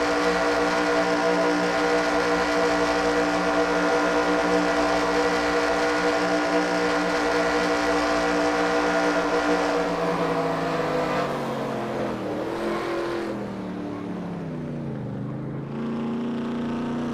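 Race car engine heard from on board during a Talladega Superspeedway race, a loud steady high-revving drone that dips and sweeps through gear and speed changes near the end, with no talk.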